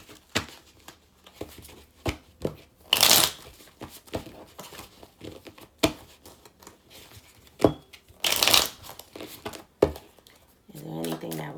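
Chakra oracle cards shuffled by hand in a few short riffling bursts with soft taps and crinkles between them, fairly close, followed by someone speaking at the end.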